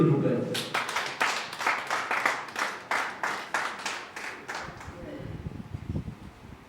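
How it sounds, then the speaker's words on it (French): A seated audience at a Rotary club induction ceremony claps in a steady, rhythmic unison beat of about a dozen firm strikes, then fades into room murmur and voices. "Ça s'applaudit, s'il vous plaît."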